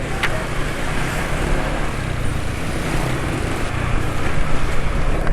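A small motorcycle engine, freshly refilled with Repsol Smarter full synthetic oil, idles steadily up close with a slightly rough, continuous drone, alone and without pauses.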